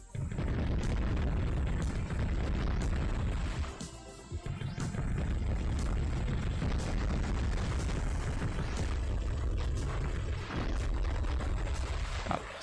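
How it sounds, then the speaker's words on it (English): Repeated heavy mortar shell explosions from a war video game boom one after another, with dense, loud blasts filling the scene and a brief lull partway through before the barrage resumes. "I think there's a mortar guy, but yeah, he was shooting further than I thought they could."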